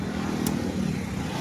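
Brand-new Continental GT 650 motorcycle engine running at a steady idle close by, a low throbbing rumble with no talk.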